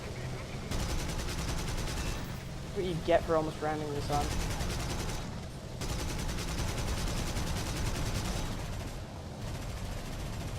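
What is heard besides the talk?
tank cannon and machine gun fire in War Thunder video game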